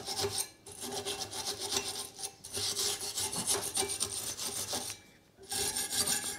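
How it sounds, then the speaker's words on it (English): Brisk rasping scrubbing of the pad seats on a brake caliper clamped in a vise, on a 2012 Ford Fiesta 1.2 Zetec petrol front brake job, in rapid back-and-forth strokes with two short pauses, close and fairly loud, no talk. "We'll give this a clean up where the brake pads sit."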